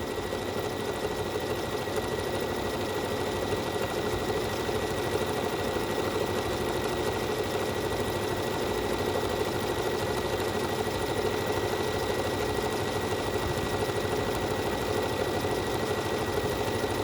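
A Bernina sewing machine runs continuously while stitching decorative stitches, a steady mechanical whir and rapid needle chatter that stays level and close throughout, with no talking.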